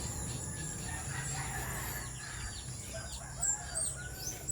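Chicks chirp in a larger brooder, many small high peeps chattering continuously at moderate distance over a steady background noise.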